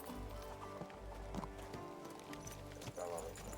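Horse hooves clip-clop steadily in the medieval game Kingdom Come Deliverance II, a moderate walking rhythm heard faintly under game music and ambience, with speech nearby.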